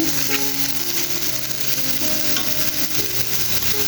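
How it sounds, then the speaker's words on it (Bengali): Shrimp fry in hot oil, a loud, continuous sizzle with occasional stirring scrapes and pops, close by and free of speech. "তেলে ভেজে নিচ্ছি চিংড়ি মাছ।"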